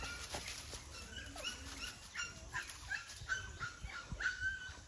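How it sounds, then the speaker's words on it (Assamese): Purebred male Naga dog puppies yip and bark in short, faint bursts at middle distance, with some whimpering between the barks. "এই দুটা নাগা ডগৰ হয় নাগা ডগৰ দুটা মেল হয়"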